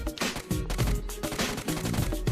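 Rapid bursts of automatic gunfire from the mobile battle royale game BGMI, several close, loud volleys in quick succession with no speech.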